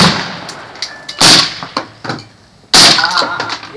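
Two loud, sharp AR rifle shots crack at an outdoor shooting range about a second and a half apart, each with a short echoing tail, with faint knocks and handling noises between them.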